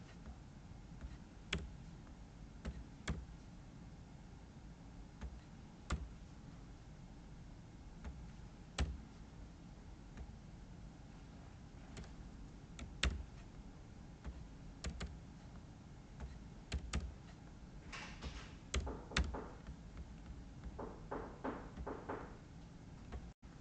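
Sparse, faint keystrokes on a computer keyboard while numbers are entered in a quiet room, with isolated clicks and a short quicker run near the end.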